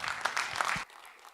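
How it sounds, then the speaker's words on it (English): Audience applause at the GrafanaCon 2016 conference is a short burst of clapping that cuts off abruptly after under a second, leaving quiet room tone. "Please give him a round of applause."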